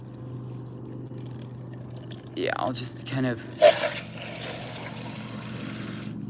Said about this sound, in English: let's turn on the hose and get a little bit of water